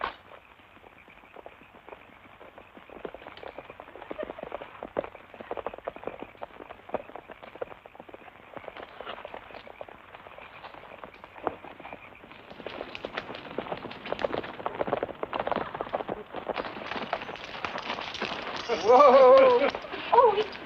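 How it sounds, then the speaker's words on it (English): Horses gallop in a 1944 Western film, a steady, dense drumming of hoofbeats that builds louder over about twenty seconds, with voices mixed in. "Get the horses, Teddy Bear."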